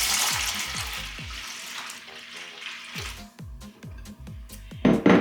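Liquid poured into a container for a Newfoundland slush cocktail, a close splashing stream with some clunks of the container, tapering off before a final burst of pouring.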